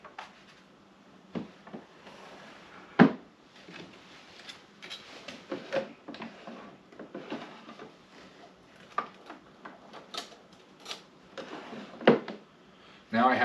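A Gerstner Style 52 wooden machinist's tool chest has its drawers slid open and shut, giving scattered soft knocks, slides and clicks amid quiet handling and occasional speech.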